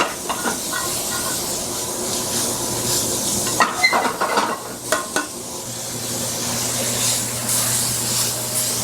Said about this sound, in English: so I'm rendering that fat down so that you don't get this big bite of gristle with each bite